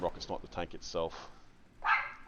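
Someone talks, and near the end a dog lets out a short, sharp bark close by.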